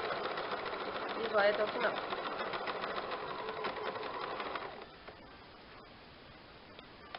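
Sewing machine stitching a fabric bread holder in reverse, a steady buzzing run heard up close under someone talking, then stopping abruptly before the end.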